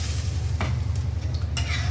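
Diced potatoes frying for a spicy jackfruit-seed curry hiss steadily as broth is poured in. A continuous close sizzle is broken by a couple of brief scraping stirs, with no talking.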